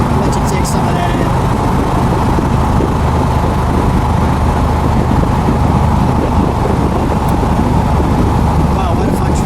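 A 1970 AMC Trans Am Javelin with a 390 engine and 4-speed cruises along, its steady, deep engine drone heard from inside the car under loud rushing wind.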